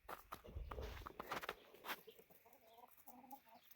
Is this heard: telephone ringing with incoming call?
no